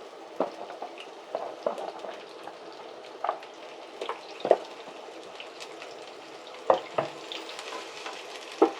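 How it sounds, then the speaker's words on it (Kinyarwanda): Sliced onions fry in oil in a pan, giving a steady soft sizzle broken by occasional sharper crackles and clinks of stirring, with no talking. "So nimara gushyiramo amavuta, ndahita nshyiramo ibitunguru."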